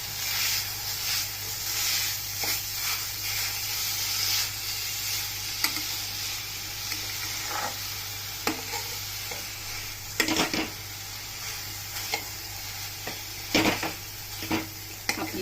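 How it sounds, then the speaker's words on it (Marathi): Jaggery and grated coconut filling for ukadiche kanavle are stirred in a hot pan, giving a continuous sizzle with scattered spoon scrapes and knocks against the pan, close and steady, with no voices. "तर आपण गूळ खोबरं मिक्स करून घेऊया आपण"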